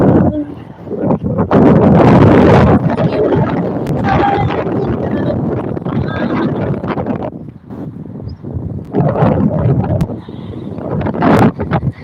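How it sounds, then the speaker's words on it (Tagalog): Strong wind buffeting a handheld microphone outdoors in Bahrain, heard as loud, close rumbling gusts that roar almost continuously, swell and ease, with brief lulls near the eight-second mark. "It's very windy, you can hear, guys."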